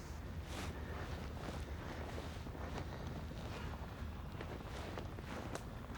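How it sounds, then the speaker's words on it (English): Steady wind blowing through snowy conifer woods on a cold winter day, a continuous broad rushing with gusty buffeting on the microphone and no voices. "with a little wind that's blowing"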